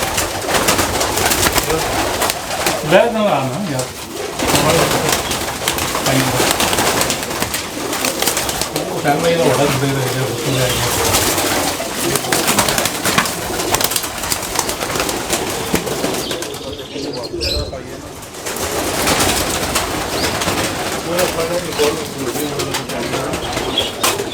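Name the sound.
pigeons cooing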